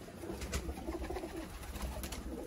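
Pigeons coo repeatedly nearby, soft throaty burbling calls overlapping in a busy flock with rustling and fluttering in the background.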